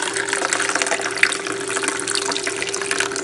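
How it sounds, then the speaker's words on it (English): Water pours steadily into a pot of rice for Sri Lankan kiri bath milk rice, a continuous close, loud splashing fill with no talk. "And then I'm going to add about 2 cups of water."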